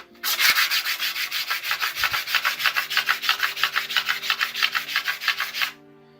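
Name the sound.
hand sanding a metal ring with 240 grit sandpaper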